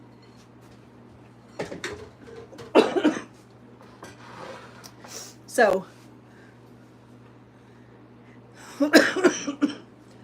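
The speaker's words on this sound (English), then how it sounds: "sorry, I keep coughing and I'm trying not to" Someone coughs several times in a kitchen, a few sharp close bursts spread apart over a quiet steady hum, with a brief spoken word in between.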